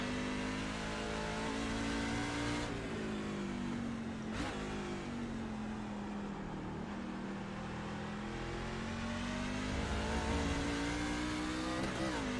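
Simulated race trucks at Road America in iRacing give a sustained engine drone that climbs in pitch, drops sharply at gear shifts, and revs back up through slow corners, loud and continuous without speech.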